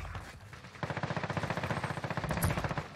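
Rapid automatic gunfire in the Call of Duty Warzone battle royale on Rebirth Island, a steady burst of closely spaced shots that starts partway in and runs loud to the end, with no voices.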